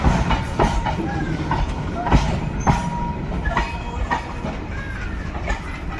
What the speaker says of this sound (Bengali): দশটা ফুল লোডেড ববিয়ান নিয়ে একদম ডবল ইঞ্জিন সামনের দিকে এগোচ্ছে ধীরে ধীরে চলে যাচ্ছে একদম নসিপুর রেল ব্রিজের দিকে